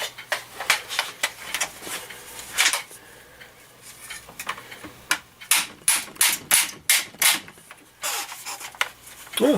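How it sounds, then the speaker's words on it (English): A vintage Estwing 16-ounce hammer striking repeatedly in irregular bursts of sharp, close, loud metallic blows, with a quieter stretch in the middle and a dense flurry of hits toward the end; no talk. "I found my father's Estwing 16-ounce hammer."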